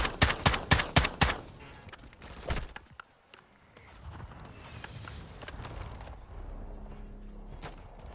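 Rapid gunfire in the video game Call of Duty MWII, a burst of sharp, loud shots in the opening seconds, then a lone shot, giving way to a low rumbling background of combat ambience.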